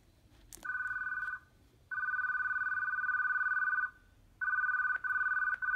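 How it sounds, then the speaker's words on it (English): An iOS 6 Clock app timer ringtone played on an iPhone running iOS 9, a steady electronic ringing tone sounding in three long bursts separated by short pauses, clear and alone. "And it even has a different ringtone like this."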